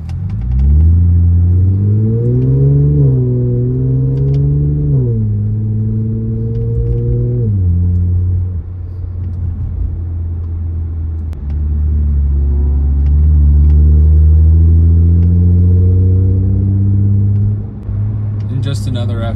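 Tuned Infiniti Q60 AWD and Stage 2 Audi A6 AWD accelerating at full throttle, a loud, close engine drone rising in pitch through several gear changes, with no talk over it.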